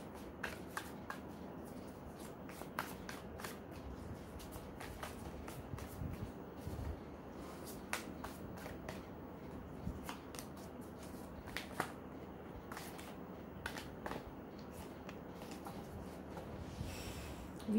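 Tarot cards are shuffled by hand, a quiet, continuous riffling and sliding of card stock broken by frequent soft snaps and taps at close range, with no talking.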